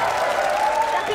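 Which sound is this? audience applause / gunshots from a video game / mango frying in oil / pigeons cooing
audience applause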